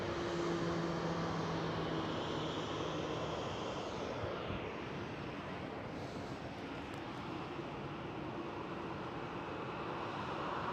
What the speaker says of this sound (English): There goes the KLM 737 taxiing out.